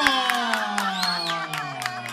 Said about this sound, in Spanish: ¡No, un aplauso!